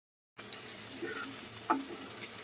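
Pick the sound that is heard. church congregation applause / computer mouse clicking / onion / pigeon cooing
onion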